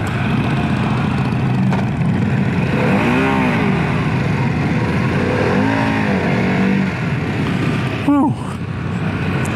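A 2024 Harley-Davidson CVO Pan America in sport mode pulls through several rising engine sweeps with brief shifts between them, heard close with wind noise over a steady rumble.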